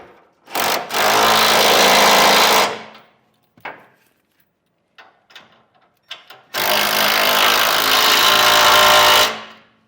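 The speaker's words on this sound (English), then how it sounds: "Then tighten up these bolts here, holding the side plates to our cross members." Bolts on the side plates of a B and W gooseneck trailer hitch on a 2016 Chevrolet Silverado are driven tight with a power tool, two long loud bursts of whirring and rattling with a few quiet clicks between.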